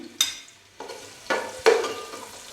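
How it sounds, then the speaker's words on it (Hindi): Two medium chopped onions hit half a cup of hot oil and sizzle, frying for mutton yakhni pulao, with a few sharp stirring scrapes against the pan, close and without talk. "1/2 कप ऑयल डाला है मैंने और इसके अंदर मैं प्याज डाल रही हूँ।"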